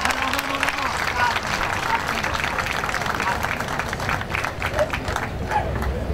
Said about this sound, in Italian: Accogliamola con un forte applauso.